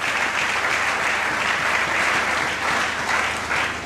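A church congregation bursts into loud, sustained applause praising the Lord, a dense steady clapping from many hands throughout, with no voices standing out.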